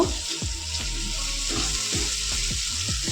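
Chicken with a pinch of garam masala frying in a pan, stirred with repeated scraping strokes over a loud, continuous sizzle, close up and with no voices.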